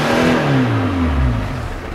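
A car engine revs hard as it accelerates, loud and close, its harmonics sweeping downward across the two seconds with a steady rumbling roar and no talk.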